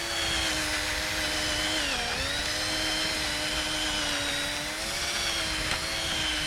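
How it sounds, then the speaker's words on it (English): A drill whines steadily at close range for several seconds, boring out the center of a rivet on Audi S5 quarter glass trim, its pitch dipping briefly under load then recovering, with no talking. "So what you're doing is drilling that center out"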